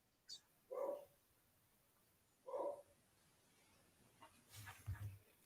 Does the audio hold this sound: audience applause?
no